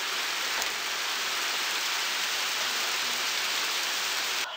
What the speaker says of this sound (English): With the way it's raining like this